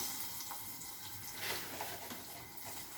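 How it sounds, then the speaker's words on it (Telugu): Garlic cloves drop into hot cooking oil for a horse gram (ulava) dish and give off a soft, steady sizzle. The hiss stays faint and even throughout, with no talking. "ఆయిల్ వేడెక్కిపోయిందండి వెల్లుల్లిపాయలు వేస్తున్నాను"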